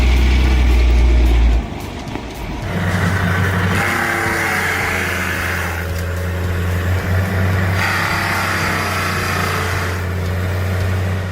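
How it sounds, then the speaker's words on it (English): An 11-ton truck with a net on its right wheel climbs a snowy hill, its engine droning steadily and loudly after a heavy low rumble at the start, rising and falling slightly in pitch as it labors. "And it's climbing that snowy hill with just a net on the right wheel."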